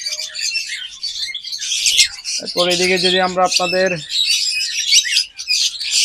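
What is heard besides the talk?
pet lovebirds chirping in a bird shop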